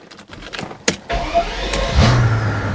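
A Mercedes SL600 with a 500 hp V12 engine starts up: starter clicks and whirs, then the engine catches about two seconds in and settles into a steady low idle, close and fairly loud.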